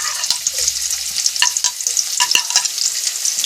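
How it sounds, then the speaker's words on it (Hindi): Onions hit hot oil in a pan and fry with a bright, crackling sizzle, punctuated by a few sharp pops and stirring clicks, with no talking. "ऑयल गरम हो गया है, प्याज डालते हैं।"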